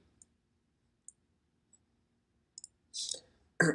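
A few sparse, sharp clicks in near silence, like a computer mouse being pressed, followed by a brief rustling burst and a louder click at the end.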